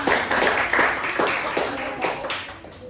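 Children in a fifth-grade mathematics class clap their hands in a brief rhythmic round, several distinct claps in a row, fairly close and moderately loud with some voices mixed in.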